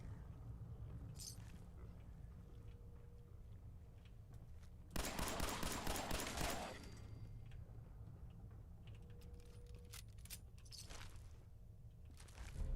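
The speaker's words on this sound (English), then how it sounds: "A radium rifle." A radium rifle in Fallout 4 fires a rapid burst of shots lasting under two seconds, loud over a quiet, rumbling game background.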